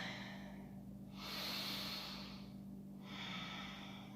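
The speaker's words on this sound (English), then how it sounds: "One more powerful breath." Powerful breaths during a power yoga session, two long, forceful nasal exhales like rushing hisses, close to the microphone, with quiet pauses between them.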